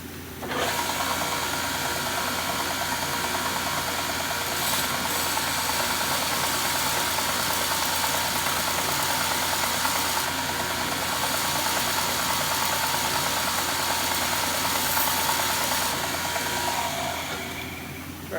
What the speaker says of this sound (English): I'm going to try this belt sander I got over here.